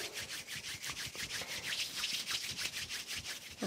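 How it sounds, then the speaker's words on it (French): Hands rub briskly together in steady back-and-forth strokes, a close, rhythmic dry swishing that repeats without pause and has no talk over it. "On frotte les mains."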